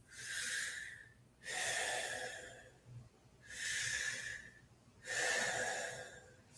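Wim Hof method deep breathing, four long forceful breaths in a steady rhythm, each a loud close airy inhale or exhale separated by short pauses, no speech.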